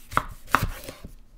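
A knife slices through fruit and vegetables on a cutting board with a few crisp, close cuts in quick succession and no talking.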